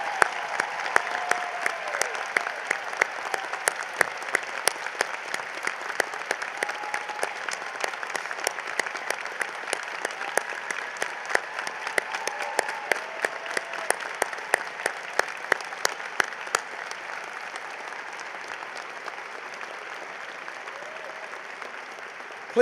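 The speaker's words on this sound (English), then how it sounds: "let's give these officers, our veteran graduates, and their family and friends, and all the members of our military community a round of applause" Sustained applause from a large commencement audience honoring veteran graduates and military families at NC State, dense clapping throughout that gradually thins and fades toward the end.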